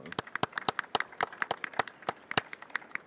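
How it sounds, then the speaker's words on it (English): Sparse, quiet applause from a small audience after a panel discussion at an energy industry conference, a handful of distinct claps in an uneven rhythm, fairly close. "if you can join me in giving them a round of applause."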